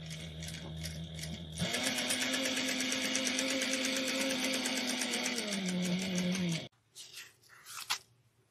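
A sewing machine stitches a bag at a 2.0 stitch length, running in one steady, rapid, close burst of several seconds, then stopping, followed by brief quiet handling sounds.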